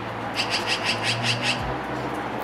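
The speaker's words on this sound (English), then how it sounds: "She's trying to find the birds." Birds chirping, heard as a quick run of repeated chirps lasting about a second over a steady low background hum, then fading out.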